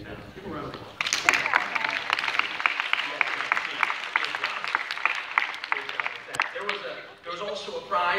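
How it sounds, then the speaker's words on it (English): An audience applauds in a hall, steady clapping that starts after a second and carries on loudly to the end, with voices and cheers mixed in. "Give a round of applause"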